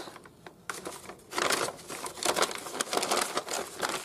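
Crisp plastic crinkling and rustling, close by, in irregular bursts that grow busier after a quiet start, with no talking.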